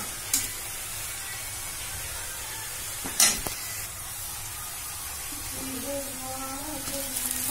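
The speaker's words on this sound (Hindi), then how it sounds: "प्याज भूंज रही हूँ।" Onions frying in a pan for an egg masala, with a steady low sizzle and a few brief stirring scrapes; a faint voice is heard near the end.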